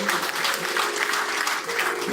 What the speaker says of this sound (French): Ça c'est applaudir.